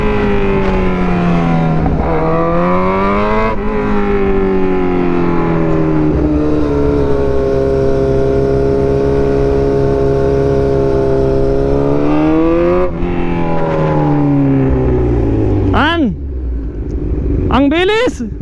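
Yamaha NMAX scooter ridden fast through a double-corner mountain route, its engine droning and rising and falling in pitch as it leans through the bends, loud and steady with wind rush.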